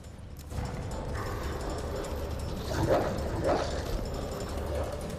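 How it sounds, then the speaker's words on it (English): A zombie dog in the Resident Evil 2 video game, Leon A campaign, gives a couple of short growling barks and yelps over a dense game soundscape, with low rumbling ambience throughout. "Be happy the dog's running away from you."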